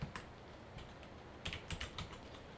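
Typing C++ code on a computer keyboard, a soft scatter of quiet keystrokes at an uneven pace, with a denser cluster of clicks in the second half; no one speaks.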